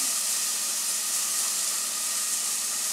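Steady, loud hissing sizzle of cream cheese melting in an overly hot pan, a continuous bright frying hiss with no breaks.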